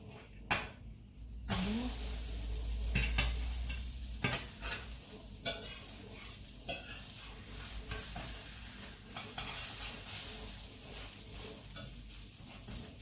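Food fries in a non-stick pan with a steady close sizzle while it is flipped, bringing scraping, clattering knocks and bursts of louder hissing.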